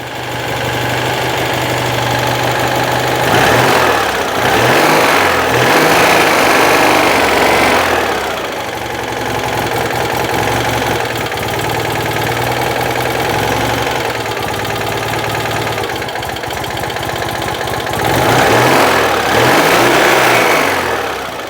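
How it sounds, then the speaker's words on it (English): A Citroën 2CV engine runs on a carburettor that had been sitting unused and gummed up, a steady close idle with two rising revs, one early and one near the end, and no talk. "It is the first time this carburettor has run for quite a while"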